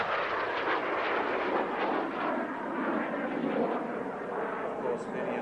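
Jet Provost jet aircraft flying past at an air show, a steady loud broadband roar of engine noise sustained throughout with crowd or commentary murmur underneath.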